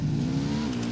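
Motorcycle engine in the video game Ghost Recon Wildlands, a steady loud droning rev with a strong low hum held throughout the short burst.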